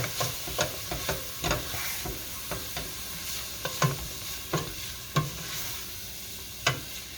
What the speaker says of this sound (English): Stir that real well. Give it a good mix.